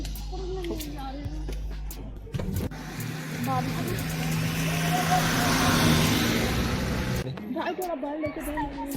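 A car passes on a mountain road at Nathia Gali, Pakistan: a rising, swelling engine and tyre rush that peaks mid-clip and fades, while people talk before and after it.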